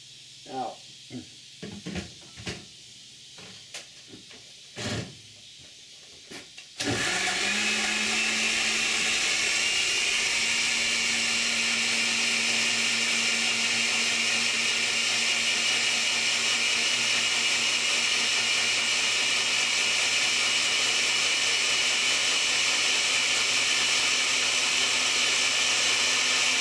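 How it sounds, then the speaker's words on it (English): An electric blender whirring through ginger chunks with honey, switching on after a few seconds of quiet kitchen clatter and talk, then running loud and steady with a high whine until the end. "Just to get the blender."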